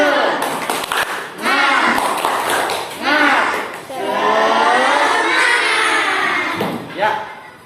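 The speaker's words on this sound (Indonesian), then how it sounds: "coba kita tepuk semangat bersama-sama" Students in a classroom perform a rhythmic clapping routine, sharp claps falling in short patterned groups mixed with children's voices chanting and speaking loudly throughout.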